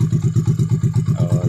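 A 70cc bike engine bored out to 124cc idles at very low rpm, its close, steady, lumpy putter pulsing about six times a second with no talk over it.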